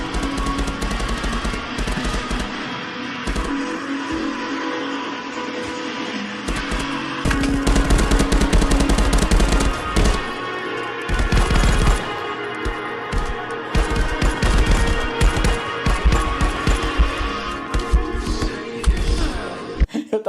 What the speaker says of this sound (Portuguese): Eu tava jogando um joguinho de tiro na realidade virtual e bala e sangue